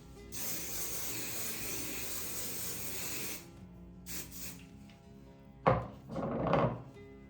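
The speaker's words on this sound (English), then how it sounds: "I'm gonna spray it one good time with hairspray again." A long steady hiss of aerosol hairspray lasting a few seconds, followed by some faint handling noises and a couple of brief rustles.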